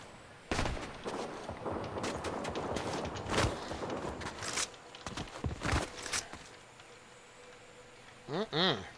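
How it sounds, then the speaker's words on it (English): Gunfire in the video game Fortnite: a run of sharp, cracking shots with irregular bursts at moderate distance, mixed with footsteps and game effects while a person talks over it. "I hear gunfire, but I don't know."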